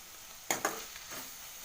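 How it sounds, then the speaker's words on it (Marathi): Capsicum sabzi sautéing in hot oil gives a steady sizzling hiss, broken by two quick spatula scrapes close together, then softer stirring. "हे जरा व्यवस्थित परतून घेते सुकी भाजी ना ही खूप छान लागते शिमला मिरची"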